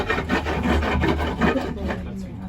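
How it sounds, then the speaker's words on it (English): Rhythmic rough scraping of a rough basalt stone rubbed back and forth across wood, close and continuous, with several quick strokes in a row. "The rough one is for sanding"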